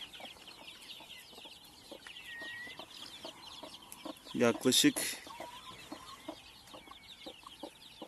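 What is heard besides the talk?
newly hatched chicks cheeping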